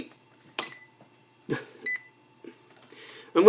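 A few short electronic beeps from an IBM ThinkPad 600X laptop boot menu, spaced irregularly, fairly quiet and close, separated by near-silence.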